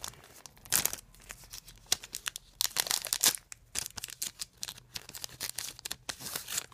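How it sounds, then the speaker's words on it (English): A Cardfight Vanguard EB10 Divas Duet booster pack is torn open up close, with sharp ripping bursts and crinkling foil wrapper rustles in quiet surroundings. "Alright, I'll just rip this one."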